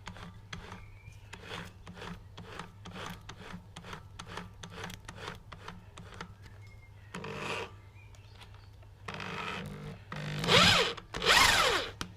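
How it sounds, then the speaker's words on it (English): Short bursts of a power drill tapping a thread buzz near the end, after a stretch of rhythmic scraping and clicking with a low steady hum underneath. "use drill for this job"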